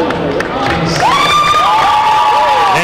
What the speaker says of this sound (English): Crowd gives Danielle a nice round of applause.